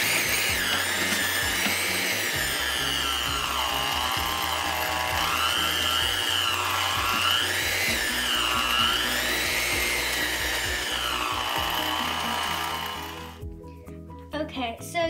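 A kitchen electric mixer whirs continuously for about thirteen seconds with a steady motor drone, speech over it throughout, then the motor cuts off and only brief talk follows.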